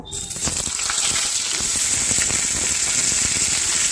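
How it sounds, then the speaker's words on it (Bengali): Pointed gourd pieces frying in hot oil with salt and turmeric give off a loud, steady sizzle with spattering crackles and small clinks, starting abruptly and continuing evenly throughout. "পটলটাও ভেজে তুলে রাখবো। পটলটা ভালো করে ভেজে নেবো।"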